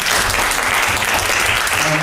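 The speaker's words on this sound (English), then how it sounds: "Another round of applause." Loud, steady applause from an audience fills the whole clip, dense clapping with no pauses.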